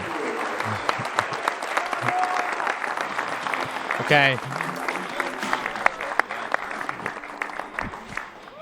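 Steady applause from a television sports studio audience runs throughout, with a brief Italian voice speaking over it partway through.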